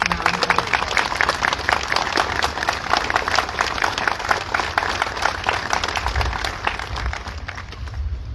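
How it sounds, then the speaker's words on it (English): An audience at the Chief Standing Bear Forever Stamp unveiling gives Joe Starita a sustained round of applause, dense steady clapping from a large crowd that fills the whole stretch and tapers slightly at the end. "would you all please give Joe Starita another big round of applause"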